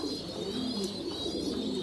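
Pigeons coo on a farm where the birds are kept in stacked cages, a steady low murmur of overlapping calls filling the space at moderate volume throughout, with no talking.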